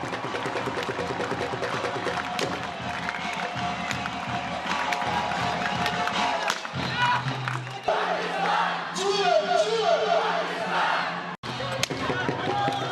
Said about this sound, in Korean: 힘찬 함성 소리가 울려 퍼지기 무섭게